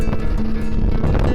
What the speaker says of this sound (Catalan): el vent no va parar de bufar en tota l'estona